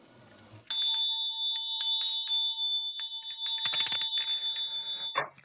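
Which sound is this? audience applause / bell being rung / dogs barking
bell being rung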